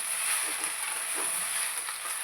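Sorrel leaf curry (pundi palya) frying in a pan, a steady soft hiss of sizzling oil running evenly throughout with faint scattered crackles and no talking.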